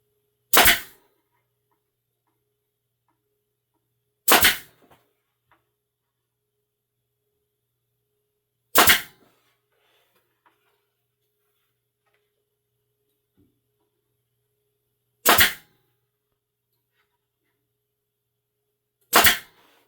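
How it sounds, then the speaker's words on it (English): A nail gun fires 1 3/8-inch 18-gauge brads into the edge of segmented woodwork, five sharp, loud, isolated shots spaced several seconds apart with near silence between. "I have an 1 3/8 18 gauge brad that I'm going to shoot in to the edge"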